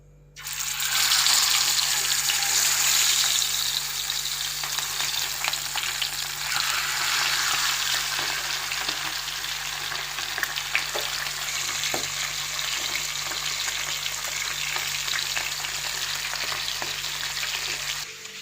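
Fish frying in well-heated oil at night, a dense, steady sizzle and bubbling close by, loud at first and then holding an even level with small crackles throughout.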